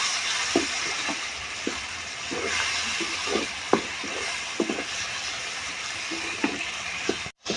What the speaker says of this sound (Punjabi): ਤੇ ਨਾਲ ਹੀ ਹੁਣ ਪਾ ਦਾਂਗੇ ਜੀ ਆਪਾਂ ਕੱਟੇ ਹੋਏ ਟਮਾਟਰ ਇਹ ਟਮਾਟਰਾਂ ਨੂੰ ਵੀ ਆਪਾਂ ਮਸਾਲੇ ਦੇ ਵਿੱਚ ਚੰਗੀ ਤਰੀਕੇ ਨਾਲ ਭੁੰਨ ਲਾਂਗੇ